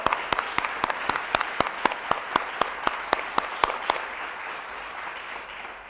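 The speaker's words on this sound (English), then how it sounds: "So let's give a round of applause and kick things" A round of applause at a NASDAQ opening bell ceremony. Sharp, regular claps stand out above a steady wash of crowd clapping that keeps going for the whole stretch and fades only slightly toward the end.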